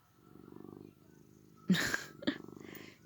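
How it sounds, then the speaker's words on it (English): A soft, rumbling purr from a small cat runs low and steady close by, then a couple of louder rustles and bumps break in. "Are you purring now?"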